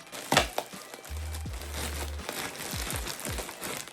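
Plastic parcel packaging from a TikTok Shop order crinkles and rustles up close as it is opened, with a sharp crackle early on, a low steady hum underneath and scattered soft thumps and rustles following.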